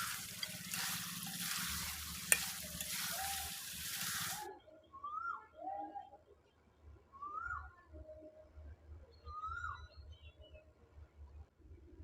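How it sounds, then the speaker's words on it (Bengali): Pigeon meat stirred in a pan with oil and whole garlic sizzles with a soft hiss for about four seconds, then the frying falls quiet and faint bird chirps and low thumps follow. "যতক্ষণ না মাংসের জলটা শুকিয়ে যায় ততক্ষণ পর্যন্ত মাংসটা কষাতে থাকবো"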